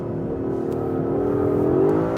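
An Aston Martin DB11, the twin-turbo model rated at 600 horsepower, accelerates hard at full throttle, its engine note rising steadily and loud from start to finish with no talk over it.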